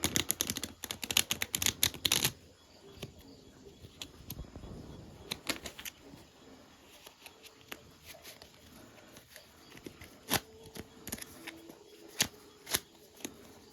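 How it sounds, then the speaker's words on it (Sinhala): A deck of playing cards is shuffled for a magic trick, with rapid fluttering riffles up front, then a scattering of quieter single card snaps and taps, near and with no talk. "මෙන්න මෙහෙම පැක් එක සපල් කරගන්නවා"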